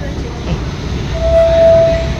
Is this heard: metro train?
yes